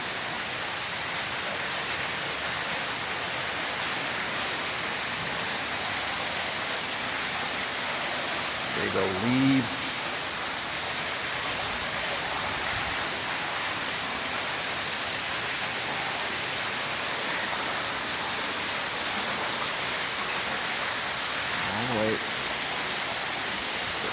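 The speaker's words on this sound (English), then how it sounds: "You can hear the waterfall." A waterfall roars in a constant, even rush of water throughout, with a voice speaking briefly over it now and then.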